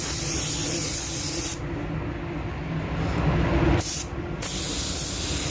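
Candy red paint is sprayed onto a car panel from a spray gun, a loud steady hiss that cuts off briefly twice as the trigger releases, with a low hum beneath.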